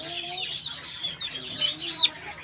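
Young Aseel chicks give a steady stream of thin, high peeping chirps close by, with soft clucks and some rustling underneath.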